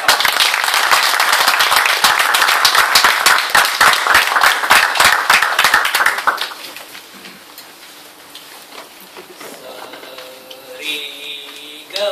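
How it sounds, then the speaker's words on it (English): Loud, dense applause from a Toastmasters workshop audience welcoming a division head, strong for about six seconds before cutting off abruptly, followed by quiet room sound and a brief sung tone. "put a thunderous round of applause to welcome Toastmaster Padma, Division Head"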